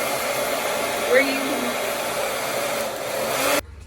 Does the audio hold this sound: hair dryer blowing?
yes